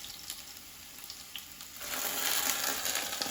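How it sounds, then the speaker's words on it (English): Tuscan rosemary potatoes sizzle in a hot pan, a steady hiss that swells louder once the lid comes off, with no talking. "You will hear it sizzle."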